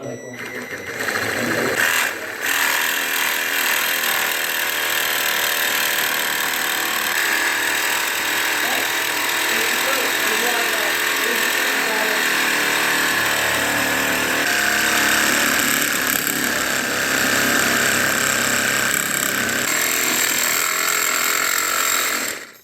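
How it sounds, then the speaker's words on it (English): Power tool whirring steadily while a custom Miata hardtop bracket is drilled out, loud and continuous throughout with a brief interruption near the start. "I'm going to have to drill it out again."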